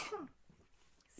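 A single sharp sneeze bursts out loud and close at the start, then trails off into quiet room noise, with a faint small sound near the end.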